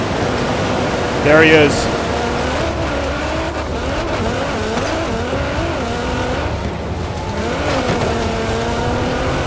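Car driving straight through a river in the racing game Forza Horizon 4, a steady engine drone with watery rushing noise throughout, and someone talks briefly over it.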